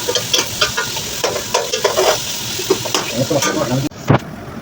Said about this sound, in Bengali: সমস্ত মশলা দেওয়া শেষ এখন একটু নাড়াই করে নেবেন